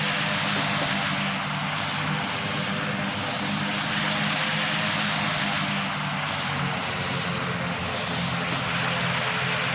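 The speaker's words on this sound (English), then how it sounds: "aircraft's coming in for landing pretty soon" Propeller airliner engine drone from a plane on landing approach in the Roblox flight game PTFS, a steady loud hum running continuously throughout with no pauses.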